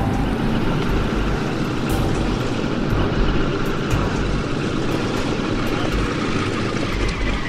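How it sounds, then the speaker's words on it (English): A Canadair CL-215 rolls down a runway after a belly landing, giving off a loud, continuous broadband roar and rumble with scraping texture and no clear pauses. "It's so bad that the nose of the plane rolls off the runway before coming to a halt."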